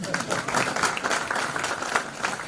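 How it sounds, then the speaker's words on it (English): Clapping from a crowd at a national youth conference session, uneven and moderately loud, with individual claps standing out through the wash. "So clap again."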